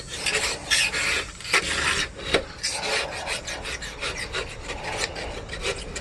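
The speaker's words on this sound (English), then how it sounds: "just gotta scrape that shit" Inside a garage, a hand scraper rasps off a coating in repeated rough strokes, a close, gritty back-and-forth rhythm with brief pauses between passes.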